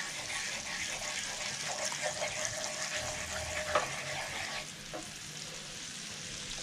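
A sauce for goose breast with orange sizzles steadily in a pan while being stirred, a soft continuous frying hiss with occasional scrapes, close and fairly quiet.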